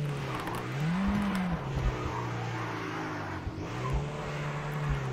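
Car engine in a horror-themed driving video game, a steady loud drone with rising and falling revs and a brief whine of acceleration, continuous with no talk.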